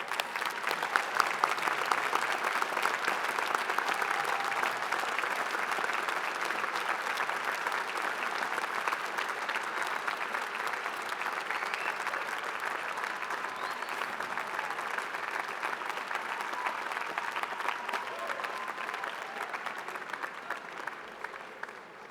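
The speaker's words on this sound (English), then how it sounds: "give yourselves a round of applause" A commencement crowd of families and guests stands and applauds itself, a long sustained roar of clapping from a large audience that holds steady for about twenty seconds before thinning at the end.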